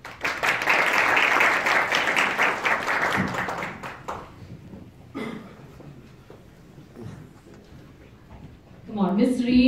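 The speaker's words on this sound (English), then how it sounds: "deserves a much better applause for that" Audience applause at a BenQ 4K projector launch event, a dense burst of clapping that swells loudly for a few seconds and then thins out, followed by scattered claps and a voice speaking at the end.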